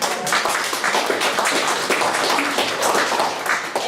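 Round of applause at a city council meeting for volunteering city workers, dense clapping from a room of people that stays steady and fairly loud for the whole span.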